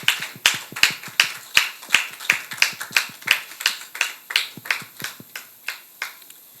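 A small studio audience claps to welcome Dr Serge Métiongbe, a surgeon guest on a talk show, with close, sparse and rhythmic claps from only a few hands, evenly spaced and fairly crisp.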